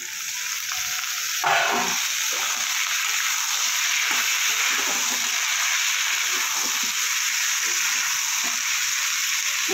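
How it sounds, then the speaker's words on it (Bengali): Potato and eggplant fry in a pan with salt and turmeric, giving a loud, even, continuous sizzle close up, with soft stirring scrapes beneath it and no speech. "আলু আর বেগুনটা ভালোভাবে আমার ভাজা হয়ে গেছে।"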